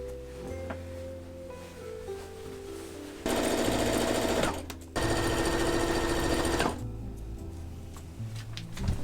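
Sewing machine stitching around the edge of a quilted patchwork jacket's lining, two sustained runs of rapid, even mechanical whirring with a quieter pause between, close and clear.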